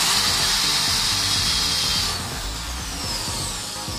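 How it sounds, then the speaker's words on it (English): Power drill with a countersink tip boring into metal for a prop rifle build, a steady close, loud whirring grind that eases slightly partway through and continues alone without speech. "That countersink tip that I'm using there is pretty close to the size of the final hole"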